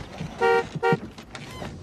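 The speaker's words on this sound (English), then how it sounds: "when I inhale, my titty make the horn honk" A car horn gives two short, clear toots in quick succession, close by and alone, with no talk over them.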